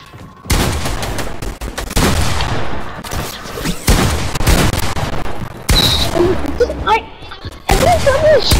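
Fortnite gunfire in rapid sustained bursts with booming shots, loud and close, separated by brief pauses, with game effects and chimes near the end.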